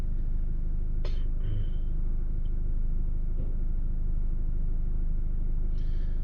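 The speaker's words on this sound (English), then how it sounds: "I'm just stuck in traffic real quick." A car is stuck in traffic, heard from inside the cabin as a soft, constant low engine and road rumble, with a couple of brief faint clicks and a short high tone, and no talking.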